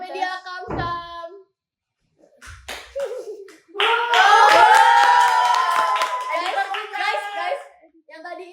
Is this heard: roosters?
no